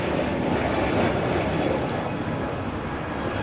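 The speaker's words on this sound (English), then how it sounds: "This is Spirit Airlines 128 taking off to Baltimore on an A321neo." Spirit Airlines A321neo jet taking off at LAX, a steady, loud broadband engine roar that holds evenly throughout without breaks or talk.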